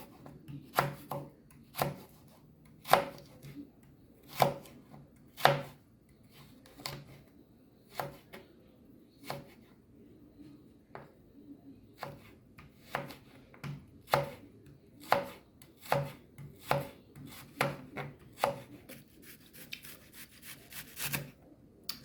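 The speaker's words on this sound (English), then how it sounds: "So you want to thinly slice your carrot as well." A knife thinly slices carrot on a board for Jamaican escovitch sauce, with sharp irregular chops repeating at a loose, unhurried pace over a quiet background.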